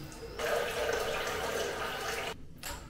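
Warm water runs from a tap as a head is wetted before shaving with a Ferrum flexible razor, a steady close splashing stream that cuts off near the end.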